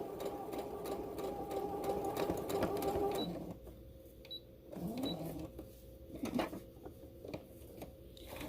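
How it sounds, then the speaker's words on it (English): A sewing machine runs at a steady, moderate pace for about three seconds, then goes quiet apart from small handling clicks and shuffles. "I have my sewing machine set to go slow"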